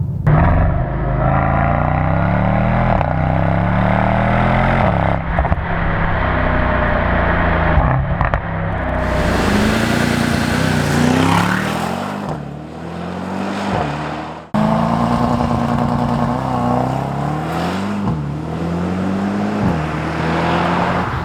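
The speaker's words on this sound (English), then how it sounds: "It's a 4-liter Biturbo V8 with 603 horsepower and" A 2021 Mercedes-AMG E63s wagon with a 4-liter biturbo V8 revs hard and loud, rising and falling through repeated pulls over about twenty seconds, with sharp cuts and crackles between the revs.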